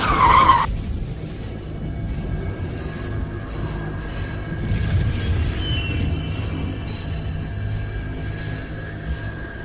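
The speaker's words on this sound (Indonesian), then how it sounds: "Dan saat itu mobil Aldi mulai berputar" Car tyres skidding and screeching as the vehicle spins off the road in a night-time story, a sharp high squeal at the start, then a sustained rumbling, scraping roar that carries on loudly throughout without speech.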